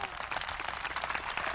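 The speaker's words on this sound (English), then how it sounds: "How about a big round of applause for them?" Faint, steady clapping from a crowd during a live-stream broadcast, a soft continuous patter heard from a distance.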